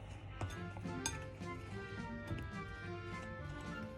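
Buckwheat flour and flaky salt being mixed by hand in a bowl for galettes, light irregular clinks and scrapes of utensil against the bowl with soft ticking taps, steady and close, no talking.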